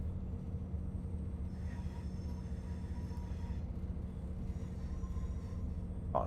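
Voyager train running in Train Sim World 6 on a cross-country service toward Edinburgh Waverley: a steady, continuous low engine drone and rail rumble, moderately loud and unbroken, with faint higher whines and a brief louder bump near the end.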